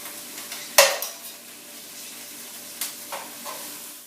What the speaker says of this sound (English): Our chicken's just about done. It's been sizzling for about 10 or 15 minutes, becoming a golden brown.